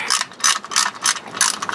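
A ratchet loosens a plug on a 2018 Chevy Colorado during an oil change, giving about five quick, close, crisp bursts of clicking in a steady rhythm.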